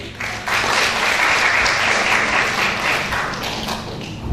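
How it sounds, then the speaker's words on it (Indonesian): Applause at a wedding ceremony, a crowd clapping steadily and fairly loudly for about four seconds with no talk over it. "Kita berikan aplaus."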